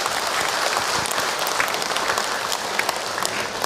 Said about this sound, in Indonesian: Tepuk tangan buat ibu-ibu semua yang hadir hari ini.